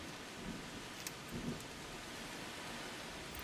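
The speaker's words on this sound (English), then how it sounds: "Seriously, game? You're bloody raining on me as well." Steady rain falls in the survival video game VEIN, a soft continuous hiss of drops on surfaces at low level, with a few faint rumbles and bumps.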